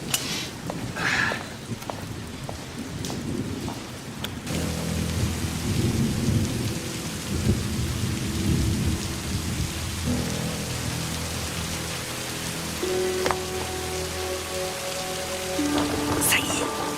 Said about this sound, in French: Non mais quel déluge!